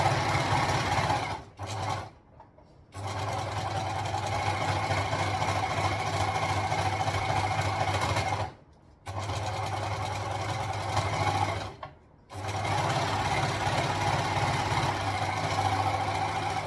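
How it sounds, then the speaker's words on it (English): An overlocker serger runs in steady whirring bursts while stitching over dress straps, stopping briefly three times before starting again, close and fairly loud with no talking. "So I've just got now another lot of stitches over those straps."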